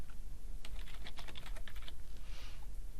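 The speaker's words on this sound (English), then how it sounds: "Then you'll have to type in the Skype ID" A computer keyboard clattering with a quick burst of close keystrokes, light and crisp, followed by a brief pause and a soft rustle.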